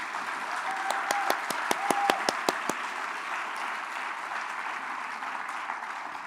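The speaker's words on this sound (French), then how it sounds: "On applaudit les personnes âgées." An audience at a faith gathering bursts into applause, a quick run of sharp individual claps over broad, sustained crowd clapping that carries on steadily at moderate distance.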